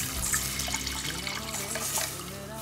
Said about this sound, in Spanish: añadimos la leche